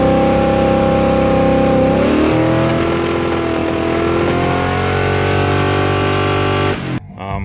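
A TBI 350 small-block Chevy V8 fitted in a square-body truck revs up loudly after a steady idle, holds a high, strained drone for several seconds, then cuts off abruptly near the end.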